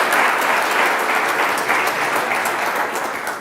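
Applause from a conference audience at a facade design summit, greeting a speaker; dense, loud, even clapping throughout, tapering slightly toward the end.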